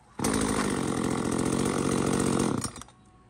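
A petrol chainsaw with an easy-start assisted pull cord fires up at once and roars loud and close for about two and a half seconds before cutting off abruptly.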